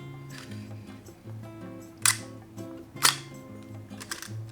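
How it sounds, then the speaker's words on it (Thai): Shutter of a Praktica SRT 101 film camera fired on the bulb setting, sharp mechanical clicks near the two- and three-second marks with smaller ticks around them, close and crisp over a faint background hum. "เช็คชัตเตอร์บีครับ"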